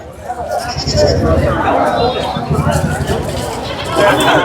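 Goats bleat repeatedly amid a busy livestock market in Ranipet, the calls rising over constant crowd chatter and nearby talk.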